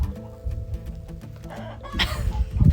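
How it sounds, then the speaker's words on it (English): Laying hens cluck loudly and repeatedly in short, choppy bursts, with busy overlapping calls growing louder toward the end. "My chickens are laying eggs out there."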